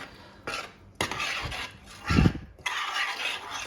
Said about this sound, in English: Going to give it a little stir around.